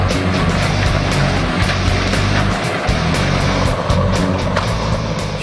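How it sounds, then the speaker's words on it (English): A Beast grinder processes clearing waste into boiler fuel, a loud, steady industrial engine roar with a deep rumble and scattered crunching impacts throughout. "Shown here is the Beast processing clearing waste used for boiler fuel"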